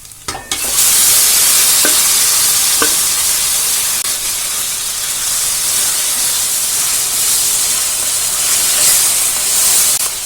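Mutton pieces hit a hot pan with a sudden loud sizzle, which settles into a steady, close hiss of frying for the whole stretch while the meat is stirred, cooking mutton varattiyathu with pepper powder. A few scraping stirs sound early on, and there is no talk.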